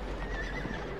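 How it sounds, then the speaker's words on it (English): A horse in the 2000 film Gladiator lets out a short, loud whinny, with some hoof clatter beneath it. "Oh my God, look at this horse."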